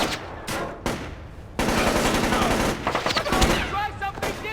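Rapid automatic gunfire in the stealth video game Splinter Cell: Chaos Theory, loud bursts and sustained volleys with short pauses between them, mixed with game voices.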